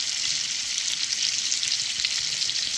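Onions of different sizes fry in a pan as the base for black beans, a close, steady hiss and crackle of sizzling oil running evenly throughout the short stretch, with no talking.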